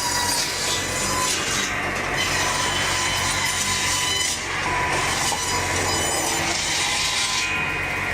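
Hydraulic forestry machine, a John Deere 1270G harvester with an H425 head, cutting three-foot timber sections into blocks: a loud continuous grinding, sawing roar with rising bursts of cutting, close and unbroken, no talking.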